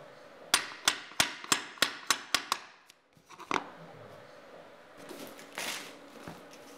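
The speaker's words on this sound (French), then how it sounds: "Ce dernier morceau de la rangée est fixé avec un marteau et un tire-lame." Hammer and pull bar tapping the last laminate plank of a row into place: eight sharp, evenly spaced metallic knocks close by, then a few scattered softer thuds and shuffling.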